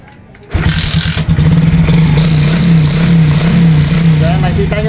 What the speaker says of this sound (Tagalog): Kickstart ko siya mga ka-workshop.